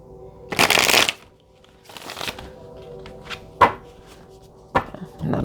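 Oracle cards from a Wounded Warriors deck riffle and shuffle in several broadband bursts, with short gaps and a few sharp taps of cards landing between them, close and fairly loud.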